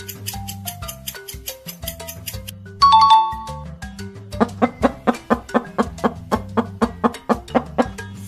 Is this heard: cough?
no